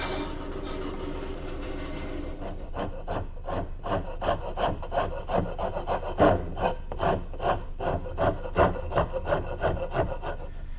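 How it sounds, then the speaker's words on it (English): A wood rasp shapes a wooden rear stile for a high chair, rhythmic scraping strokes repeating steadily and close, each pass a coarse rasping rub, with no talking. "shape the rest of it with my wood rasp."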